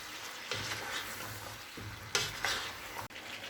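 Yogurt is stirred into vegetable pulao in a pot, with soft sizzling under repeated scraping strokes of a spoon against the metal and a few louder clinks, close and alone.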